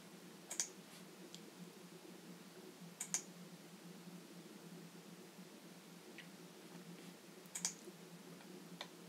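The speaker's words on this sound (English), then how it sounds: "I'm really sorry if you can hear the mouse clicks" Computer mouse buttons clicking during screen navigation, a few sharp isolated clicks spaced several seconds apart over a faint steady hiss, close and quiet, with no talk.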